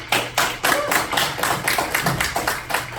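A class claps together in a room, a quick burst of rhythmic hand claps that thins out into scattered slaps over a few seconds, close and fairly loud with no talking.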